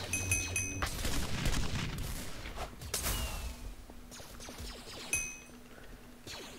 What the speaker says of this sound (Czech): fakt to dělá i ty zvuky ze Star Wars, ty výstřely